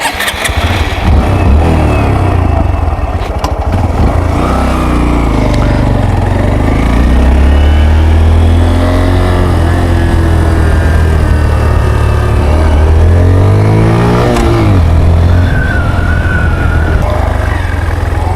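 A 2015 Honda Grom, a small motorcycle, starts up and revs repeatedly, its engine rising and falling in pitch through several loud, close throttle blips over a steady idle.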